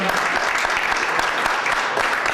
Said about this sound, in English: How about a big round of applause for our military?